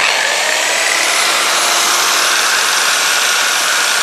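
A Powertuff automatic car polishing and waxing machine, rated at 2800 RPM, runs at its maximum speed setting, giving a loud, steady, even whirring hiss with no break.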